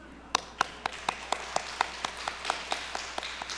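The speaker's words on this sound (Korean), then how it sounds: "저리 방송실을 위하여서 격려의 박수." A church congregation gives encouraging applause for the broadcast room. Sharp claps land in a steady, even rhythm, about a dozen or more in a row, each crisp and distinct against quiet room tone.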